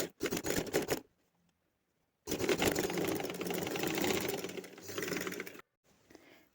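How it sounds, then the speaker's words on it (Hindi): A sewing machine stitching a trouser bottom with pintuck detailing, a fast whirring run for about a second, a pause, then a longer steady burst of rapid close stitching, stopping again near the end. "तो मैं फ़िलहाल रफली सिलाई करके आपको इसकी फ़ाइनल लुक दिखाती"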